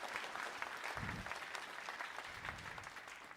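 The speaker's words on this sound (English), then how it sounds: "Please, a round of applause for HRT." Audience applause at the closing ceremony of the MIT Mystery Hunt, a fairly faint but steady crowd of hands clapping, heard from a distance with a few low thumps underneath.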